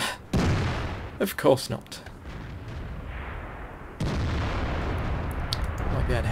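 Artillery fire from tank combat in World of Tanks, heavy booming shots and rumbling blasts amid constant battle noise, with someone briefly talking over it.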